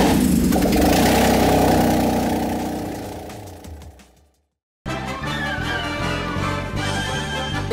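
A BMW M54 engine swapped into a Volvo 940 runs loud and close, a rough, throbbing idle that dies away into a brief silence, then fires back up and settles into a steady run with no talking.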